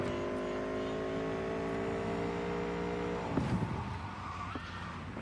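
A car engine in Cyberpunk 2077 revs with a steady rising drone for about three seconds, then cuts off into a rougher burst and fades, moderately loud and close.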